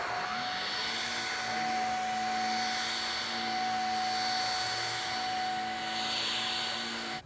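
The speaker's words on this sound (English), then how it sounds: "So I'm just going to demonstrate how to vacuum it." A vacuum cleaner runs steadily indoors over an artificial turf putting green, a loud continuous whine and rushing airflow holding level throughout with no talking.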